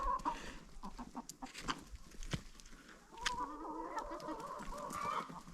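Hens clucking and calling around a feeder where roaches are tipped out for a goose and the chickens, a busy overlapping flock chatter with sharper calls rising near the end, fairly close and steady throughout.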